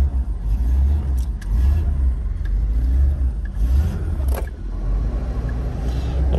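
Engine of a 1988 Chevrolet Opala running, a steady low rumble with slight swells in revs and a few faint clicks over the top.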